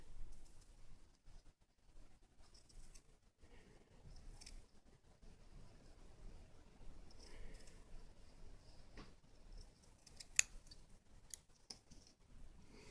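Scissors snip through a strip of cotton wick for a Steam Crave Aromamizer RDTA V2 build, a faint, quiet cut with a few small clicks in an otherwise hushed room.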